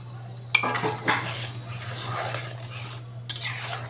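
Spices with salt and turmeric are stirred in a metal pan, with sharp clinks and scraping strokes of the spoon up close over a low steady hum and a faint sizzle underneath.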